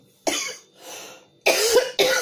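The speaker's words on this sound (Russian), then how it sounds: "Что-то кашель пошел опять." Three harsh coughs, close and loud, the first and last two separated by brief pauses, with a softer breathy rasp between them.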